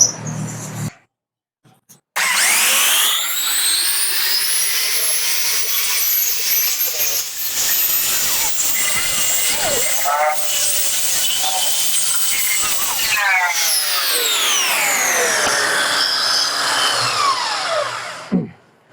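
A power sander grinds steadily against teak wood, loud and close, starting after a brief stop-start and running continuously with slight shifts in pitch.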